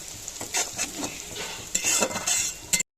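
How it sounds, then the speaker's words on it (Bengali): Duck meat stirred with salt in a pan over a clay stove: sharp utensil scrapes and clatters over a soft sizzle, close and brisk, ending abruptly after a few seconds. "লবণ দিয়ে আরও কিছুক্ষণ নাড়াচাড়া করে নিচ্ছি।"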